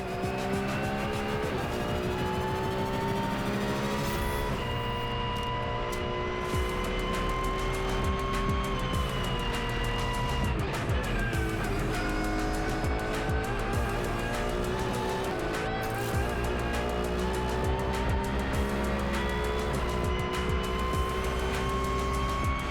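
Race cars circle a track and jostle for position, a dense, continuous roar of engines with shifting pitch and occasional tire squeal, heard from inside or close to the cars, without talk.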